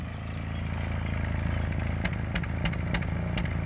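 Exhaust of a vibrating, misfiring engine with a bad spark plug, heard close up at idle: a steady, rough low rumble broken by sharp popping misfire shots that come at irregular intervals, with no talking.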